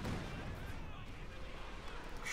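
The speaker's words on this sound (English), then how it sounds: "And there you go, close quarters barrage." Katyusha rocket barrage in Company of Heroes 2 fired at close quarters, a rapid cluster of booming launches and blasts that rumble heavily, fairly loud, with a voice talking underneath.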